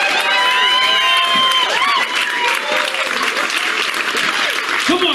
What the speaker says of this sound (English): Ladies and gentlemen, give it up.